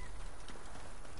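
Horse hooves clip-clopping in a video game, a brief, faint patter of steps that is soft and low in level.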